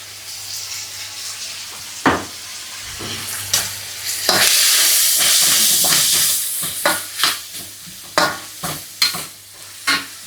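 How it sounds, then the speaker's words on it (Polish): Onion tossed into hot fat in a pan, a steady close sizzle with repeated stirring scrapes and knocks of a utensil against the pan, no talking. "Wrzucę sobie cebulkę na ten sam tłuszczyk."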